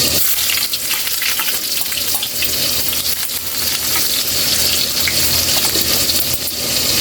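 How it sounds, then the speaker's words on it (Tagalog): Ginger sautéing in hot oil in a pan for a banana blossom coconut milk dish, a loud, dense, continuous sizzle and crackle that stays up close and steady throughout, with no talking. "Umpisa natin magigisa"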